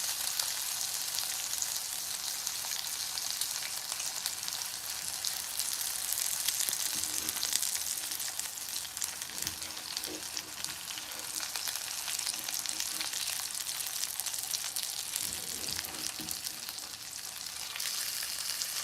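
A tomahawk steak searing on its fat side in a hot pan, giving a continuous loud sizzle with crackling spits, steady and close for the whole stretch.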